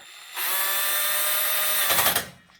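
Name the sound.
power drill tightening a bolt on a rack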